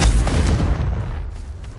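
A single Confringo spell explosion in Hogwarts Legacy, a close, heavy boom that hits hard at once and fades away over about a second and a half.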